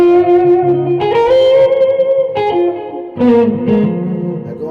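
Overdriven electric guitar chords through an OCD overdrive, Boss MS-3 tape echo and reverb ring out, each phrase trailing into repeating echoes and a wash of reverb, loud and sustained with no voices.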